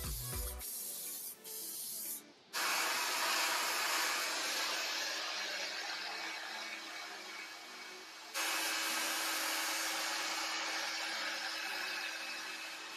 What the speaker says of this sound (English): I also use my heat gun to warm up the wood a little bit